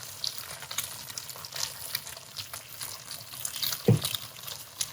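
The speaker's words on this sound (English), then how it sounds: "And this egg's going to take, you can see how quick it's cooking, maybe a minute." An egg seasoned with salt and pepper frying on a Kamado grill, a soft steady sizzle up close with faint crackles and one brief louder bump near the end, no talking.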